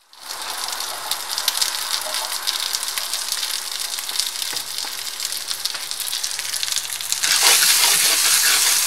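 Kraft Dinner and sausages cooking in margarine with coconut milk send up a steady, close frying sizzle that crackles throughout and swells louder near the end, with no talking.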